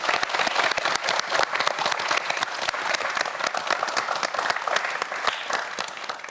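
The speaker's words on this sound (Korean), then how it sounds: "네 학생 모두에게 다시 한번 큰 박수 부탁드립니다" Studio audience applause for students on a Korean science quiz show: dense, sustained clapping from a crowd, steady and fairly loud throughout, no talking over it.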